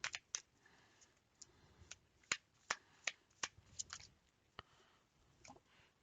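Tarot cards being shuffled close by, quiet crisp snapping and riffling flicks in irregular bursts over several seconds, with no voices.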